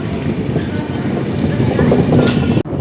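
The Kanyakumari Express rolls along from Paravur toward Varkala Sivagiri, a loud continuous rumble of wheels and carriage noise heard from inside the train, cutting off abruptly at the end.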